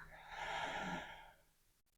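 A single slow, audible exhale during a calm breathing exercise, soft and close, rising then fading into near silence.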